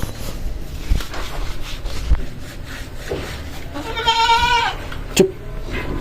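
A dirty goat being bathed by hand, its legs scrubbed, gives one loud, wavering bleat near the end, with faint rubbing and handling noises around it.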